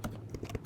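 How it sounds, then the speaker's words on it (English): Quick, close clicks of fingers typing on a computer keyboard, about half a dozen keystrokes in under a second. "type in copywriter"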